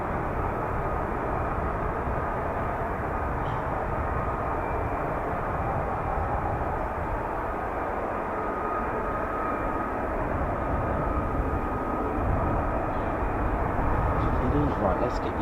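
An F-35B stealth fighter at a busy naval air squadron base makes a continuous broad jet rumble that stays loud and steady, with a person talking over it.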